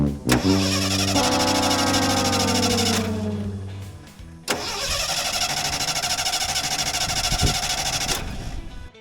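A Ford F-150 fitted with a $60 aftermarket carburetor cranks and fires up, revs loudly, then drops away; after a short gap it cranks again, catches, and settles into a rough, uneven run, all close up.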